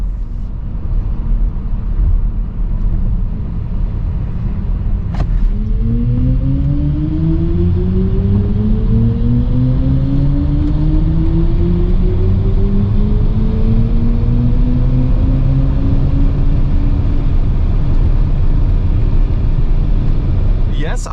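A BMW iX 50 electric SUV (523hp) accelerates hard from 100 to 200 km/h, its motor whine rising steadily in pitch for several seconds over loud road and wind rumble.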